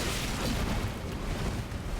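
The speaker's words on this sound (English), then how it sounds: "now he's throwing bombs at me too" A thrown bomb bursts in an Elden Ring battle with a dense, rumbling boom. The explosion noise stays loud and sustained for about two seconds, and no voice is heard over it.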